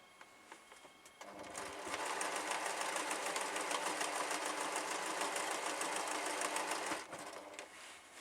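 A small domestic sewing machine with a 7-inch throat stitches through a large quilt, its rapid mechanical chatter starting softly, running loud and steady for about five seconds, then easing off near the end.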